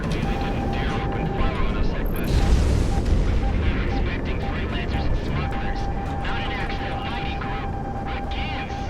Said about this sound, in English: They're sending all sorts of missiles at me